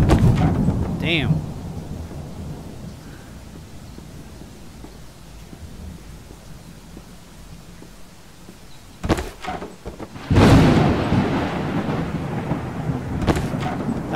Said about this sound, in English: That thunder is pretty brutal.